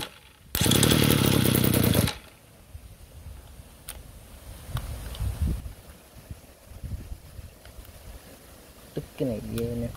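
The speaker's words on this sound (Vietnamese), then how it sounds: "Máy chạy ngon lành." A Komatsu G2KC backpack engine bursts into a loud, roaring run for about a second and a half, then cuts off, leaving faint clatter, handling noises and a brief mechanical rattle near the end.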